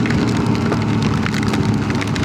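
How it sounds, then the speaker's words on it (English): Rain falling during a motorcycle trip on the road to Tennessee, a loud, dense wash of noise with a low rumble underneath, steady and close throughout, no voices. "but it is raining where we are"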